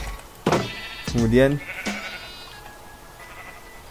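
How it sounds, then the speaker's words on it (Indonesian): Goats bleat in the video game Minecraft, a couple of short wavering bleats in the middle, with a person talking over and around them. "Dadah kambing-kambingku."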